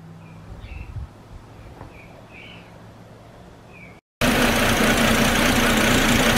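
Car engine idling roughly from a vacuum leak, a low uneven rumble with faint chirps above it, then after a brief dropout a much louder, dense broadband roar fills the rest.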